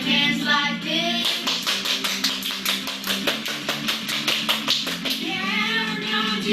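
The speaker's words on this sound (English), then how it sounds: "Clap your hands like this." Hands clap in a steady, quick rhythm during a preschool action song, a run of sharp, evenly spaced claps over music, with sung melody before and after.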